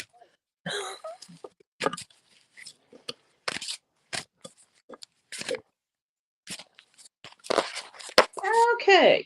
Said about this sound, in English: I'm gonna have to shuffle again.